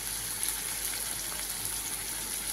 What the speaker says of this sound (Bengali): এবার দিয়ে দিলাম আদা পেঁয়াজ দিয়ে এবার আমি কষবো